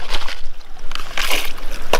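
Water sloshes and splashes in a gold pan as material is mixed and stirred, with irregular swishing bursts close to the microphone and no talk.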